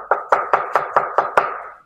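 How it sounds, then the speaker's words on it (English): A knife chops lettuce for a salad, about seven crisp, evenly spaced strokes on a board, close and fairly loud, the last one trailing off. "Is that chopping loud?"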